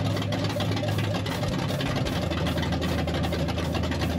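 Chevrolet C10 longbed truck idling with an open header, a loud, close, lumpy low rumble that pulses steadily and holds throughout with no speech.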